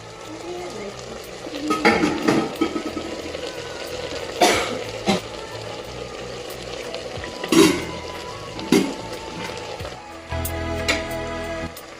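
Biryani stirred in a pot with a spoon, irregular metallic scrapes and clanks against the pot over a light sizzle, close and fairly loud, with several distinct strokes spread across the stretch.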